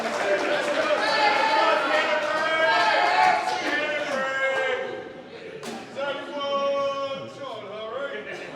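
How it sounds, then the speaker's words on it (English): Darts crowd at a pro tour event in Christchurch, New Zealand, chanting KFC in loud, sustained, rhythmic unison that swells and dips, with chatter mixed in. "There's chants of KFC going around the crowd."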